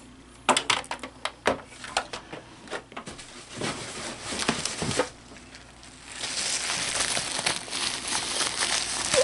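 Packaging from a newly bought console accessory crinkles and crackles as it is opened, with sharp rustling bursts early on and then a denser, continuous crumpling near the close.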